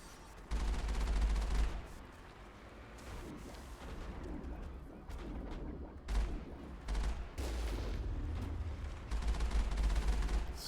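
Gunfire in Mass Effect, with booming shots and heavy bursts over a steady rumble of combat, loud and close, separate single shots standing out now and then.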